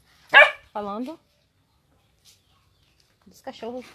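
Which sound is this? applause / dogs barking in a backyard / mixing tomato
dogs barking in a backyard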